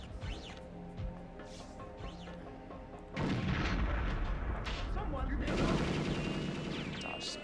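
Guards fire on the player in Perfect Dark, at first as scattered shots over a game soundtrack, then as a dense, loud barrage of gunfire and blasts through the second half, with voices talking underneath.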